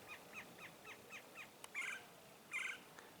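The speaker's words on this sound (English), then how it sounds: "That's a cactus wren making that noise." A cactus wren repeats a rapid series of harsh, chattering notes, followed by two louder, raspier calls, heard outdoors over faint background hiss.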